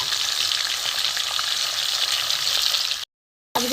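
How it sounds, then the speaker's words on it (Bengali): Hilsa fish pieces fry in hot oil with a steady, loud sizzle and crackle that holds continuously for about three seconds, then breaks into a brief silence before resuming. "মাছগুলো আমি ভেজে নেব।"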